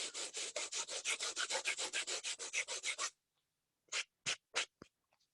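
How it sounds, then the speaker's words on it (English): Light sanding of a painted watercolour surface to lift fuzz and restore texture: a quick run of about twenty even, rhythmic scrubbing strokes close up, then a pause and three or four slower separate strokes. "I might come in here and lightly sand that surface"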